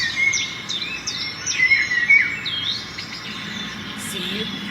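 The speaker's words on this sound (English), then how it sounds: "See, that's a bird." Recorded birdsong plays: repeated high chirps and tweets from several birds over a steady, hissy background of insect-like noise, moderately loud throughout.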